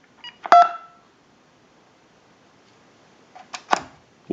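Short electronic keypad tones from a Uniden EX965 cordless telephone sound in two clusters, a couple of beeps close together, then a pause, then a few more, crisp and near.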